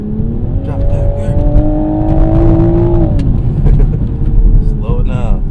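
Toyota GR Supra engine rising in pitch as it accelerates on a rough hilly road, with a gear change near the end, loud and close, while someone talks over it.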